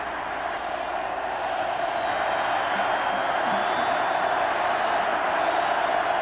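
A steady, dense roar of a large stadium crowd at a college football game between Auburn and Florida, loud and continuous with no breaks throughout.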